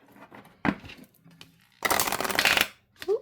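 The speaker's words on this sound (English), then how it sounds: "let's see how it shuffles" Oracle cards being shuffled in two quick riffling bursts, close and crisp, with brief handling noises between them.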